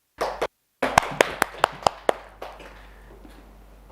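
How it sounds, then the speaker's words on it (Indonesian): A short burst of classroom clapping, about six or seven sharp, evenly spaced claps that trail off quickly, with no one talking. "Beri tepuk tangan untuk kelompok 2 yang sudah memaparkan hasil diskusinya"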